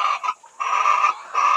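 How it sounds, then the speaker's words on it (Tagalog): Farmed chickens cluck and squawk close by in repeated bursts. The calls are loud and carry no speech. "Nag-start pa lang sila ng nag-farming ng chicken."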